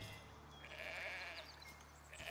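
Cows on a dairy farm in the city-building game Foundation give soft, drawn-out animal calls over a steady low hum, with no one talking.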